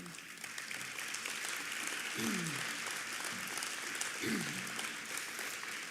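An audience at a petroleum council Hall of Fame induction ceremony applauds for the inductees, a sustained, even roar of clapping with a couple of brief voices underneath.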